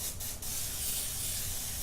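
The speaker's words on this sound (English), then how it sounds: "I have my Pam extra virgin olive oil spray." A short hissing burst of Pam extra virgin olive oil cooking spray is sprayed over a grill, a close, steady airy spray lasting under two seconds with a brief dip near the start.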